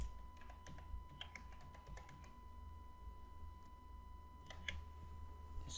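Typing on a computer keyboard, a quiet, irregular patter of light key clicks with a few brief pauses over a low background hum.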